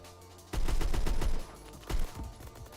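AK-103 with a bipod fired in the online shooter game Phantom Forces, a loud rapid automatic burst lasting about a second, then a shorter second burst, close and sharp with no talk.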